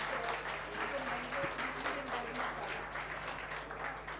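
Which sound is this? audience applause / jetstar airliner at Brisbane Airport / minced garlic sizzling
audience applause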